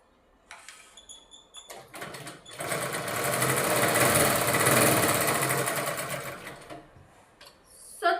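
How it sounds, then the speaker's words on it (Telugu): A sewing machine runs one continuous, close stitching pass along a folded plazo pant hem, its whirring rising and easing, framed by brief clicks and handling noise before and after. "ఫోల్డ్ చేసి మనం ఇలా స్టిచ్ చేయాలి."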